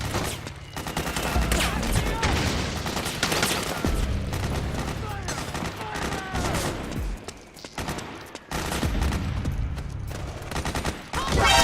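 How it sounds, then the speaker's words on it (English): Dense, continuous gunfire in Metal Gear Solid 4 combat, bursts and volleys running almost the whole way through with barely a pause, loud and close, with shouted voices breaking in over the shooting. "Suppressing fire!"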